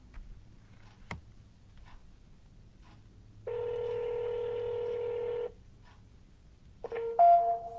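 Touch-tone telephone keypad tones for an outbound cold call: a sustained two-tone dial beep lasting about two seconds, then a short burst of further keypad tones, close and clear over a quiet background with faint clicks.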